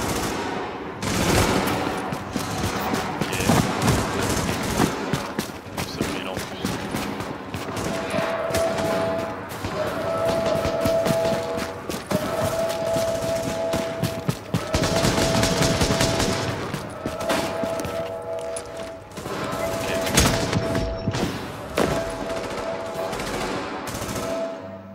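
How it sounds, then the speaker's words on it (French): Sustained automatic gunfire in Tom Clancy's The Division, dense bursts of rapid shots running almost without pause, loud and close, with a repeating electronic tone in the background. "Alors ça tire sur moi, mais ça tire pas sur les PNJ."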